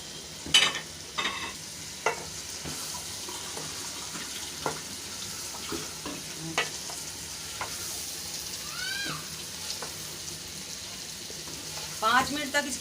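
Bottle gourd and chana dal are stir-fried in a pan: a steady, close sizzle runs throughout, broken by scraping spoon strokes and clinks as the mixture is stirred.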